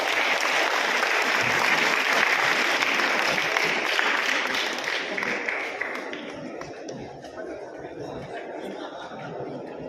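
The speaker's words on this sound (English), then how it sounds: "Please, students, please give a big round of applause." Students applauding at a college felicitation ceremony, a full round of clapping from a large audience with some light laughter, tapering gradually in the last few seconds.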